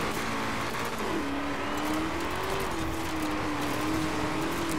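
Engine of the Hoonigan Ford Bronco racing online in Forza Horizon 4, a loud continuous drone whose pitch rises and wavers through gear changes, steady and close for the whole stretch with no talk.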